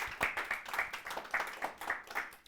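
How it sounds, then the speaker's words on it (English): Scattered applause from a small audience at a developer bootcamp lecture, a handful of people clapping unevenly at moderate distance with no voices over it. "So let's give everyone a round of applause."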